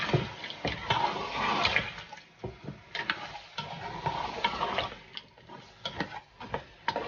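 Diced red and white onions stirred in a pot for SeneGambian meat jollof rice, with a steady wet scraping and irregular clatter of the spoon over a faint background sizzle.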